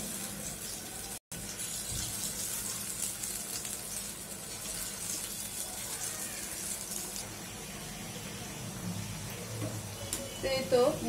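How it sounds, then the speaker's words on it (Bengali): Potatoes fry in oil with a continuous, close hiss of sizzling at a low level, briefly cut off once, while someone talks over it. "তো এই তো আলুগুলি আমি ভেজে নিব"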